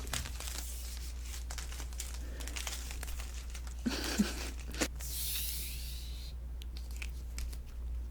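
Adhesive tape being pulled back and crinkled close up in a quiet ASMR note-taking setting, soft crackling and tearing rustles with a few sharper bursts over a low steady hum.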